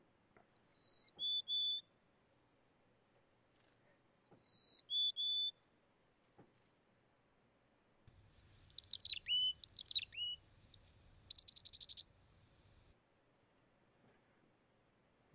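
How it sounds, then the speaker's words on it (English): A mountain chickadee sings a few clear whistled phrases with pauses between, then gives a busier series of chattering, buzzy calls, fairly close and alone. "let's listen to the mountain chickadee. First, we will hear their song and then their call."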